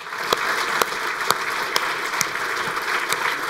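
An audience at an agricultural dialogue event claps in sustained applause, with a few sharp louder claps standing out above the dense, even clapping and no speech.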